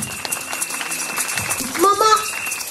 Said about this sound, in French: Acclamons le Seigneur. Boutique Adassa, elle fait très bien son travail. Acclamez bien.